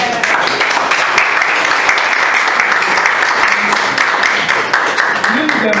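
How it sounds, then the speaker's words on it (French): Lively applause from a church congregation welcoming new members at a community breakfast, steady dense clapping filling the whole stretch with some voices mixed in. "On les acclame."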